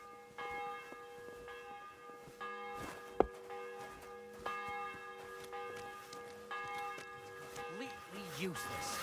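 Repeated strokes of a church bell in Kingdom Come: Deliverance II ring out with long humming decay, a sharp click in between, and a voice speaking briefly near the end.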